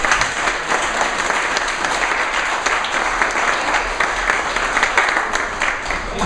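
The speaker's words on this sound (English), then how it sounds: "would you give a round of applause to my assistant, Stacy Anderson" An indoor audience at a grand opening event applauds steadily, a dense, even wash of many hands clapping that holds at full strength throughout.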